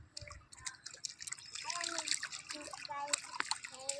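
Water splashes and trickles close by as a child is bathed in warm and cold water, with voices chatting over the pouring throughout.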